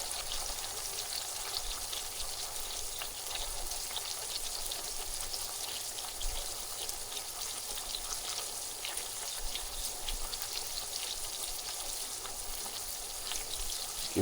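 Ground beef fries in a pan in a continuous soft, rain-like sizzle with faint popping, steady and moderately close, with no voices over it.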